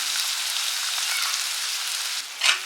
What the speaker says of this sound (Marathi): टोमॅटोही आपण चांगले शिजवून घेणार आहे